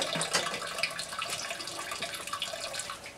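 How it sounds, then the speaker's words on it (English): Wort poured over bags of grain while sparging a 10-gallon IPA batch, a steady splashing liquid pour with trickling and dripping texture throughout, fairly close and moderately loud, no talking. "we're just basically pouring this over, this wort over the bags"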